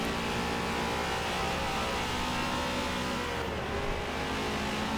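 A race car engine screams at high revs, holding a steady whine with slight pitch shifts, loud and continuous throughout.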